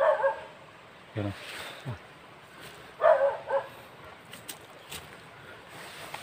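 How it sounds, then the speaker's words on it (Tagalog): Dogs bark several times at a moderate distance, short separate barks spaced a second or two apart, while people talk faintly in the background. "Dahil may aso. Yung mga aso na yan."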